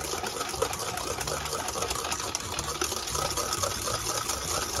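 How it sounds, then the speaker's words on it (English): Eggnog mixture is whisked rapidly by hand to froth it, giving a fast, steady, wet rhythmic swishing and clinking that stays close and continuous throughout. "you want to use a whisk to incorporate air"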